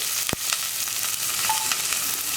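Onions cut into small cubes sizzle and fry in a heated pressure cooker, a steady close hiss with a few stirring clicks.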